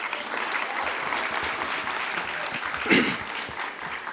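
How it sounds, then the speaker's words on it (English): Applause from an awards-ceremony audience, a soft, even patter of many hands clapping over a few seconds, moderately distant, with one brief louder burst near the end. "Another round of applause for her,"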